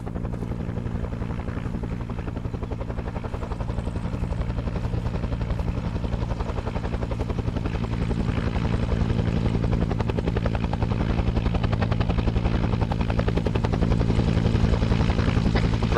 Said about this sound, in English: Right, when that helicopter lands,